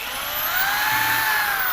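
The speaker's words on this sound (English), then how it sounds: "Oh, you're drilling at an angle there" A power drill whines steadily and loudly as it drills at an angle during DIY work, its motor pitch holding fairly constant throughout with no voices.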